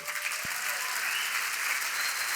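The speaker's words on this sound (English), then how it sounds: "So give Brian a big round of applause." Brief, steady applause from an audience at a business talk honoring Brian J. Esposito, an even mass of clapping with one sharp nearby clap early on.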